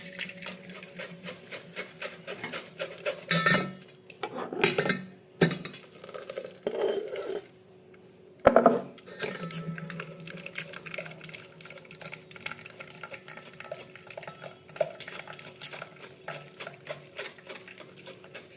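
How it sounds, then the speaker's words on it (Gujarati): Vegetable soup being poured through a metal strainer, with liquid splashing and trickling, spoon scraping and clanks against the mesh and pot, close up, with a few louder knocks and a steady drip toward the end. "સૂપને ગાળી લઈશું"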